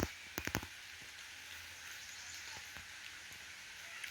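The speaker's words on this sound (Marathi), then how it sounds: "आता असं पाऊस येतं कसं वाटतं इथं." Monsoon rain falls in a steady, faint hiss across the whole stretch, with a few sharper drip or tapping sounds near the start.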